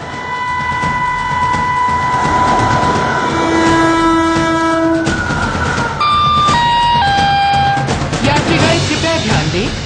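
An Indian Railways train passes loudly and close, its horn sounding in long sustained blasts that shift pitch partway through, over heavy rumbling and rattling wagons.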